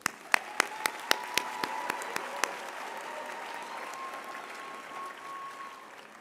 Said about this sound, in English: I think they deserve an applause too.